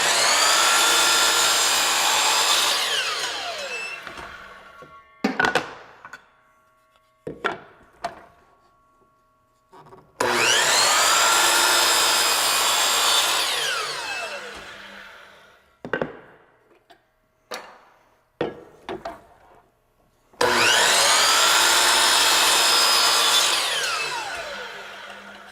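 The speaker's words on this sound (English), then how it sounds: "But for now, just trim off one end, and then we'll worry about the length." Power saw trimming one end of a wooden board, three loud close cuts each lasting several seconds, with short bursts of handling knocks and clatter in the pauses between them.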